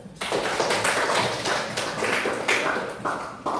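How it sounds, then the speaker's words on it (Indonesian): Applause from a classroom audience after group 5's presentation in a school session, steady dense clapping that continues throughout, fairly close and even in loudness. "Terima kasih kepada kelompok 5. Beri aplaus."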